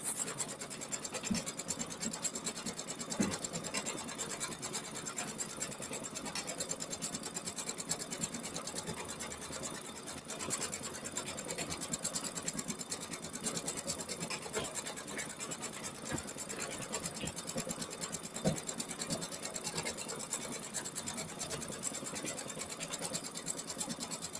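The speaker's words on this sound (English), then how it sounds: "I will go ahead and move you over to my sewing machine next, where we're going to go ahead and start sewing on the binding." A sewing machine stitches binding onto a winter landscape organizer quilt project, a steady continuous motor hum and needle chatter running alone and evenly at close range, with no talking.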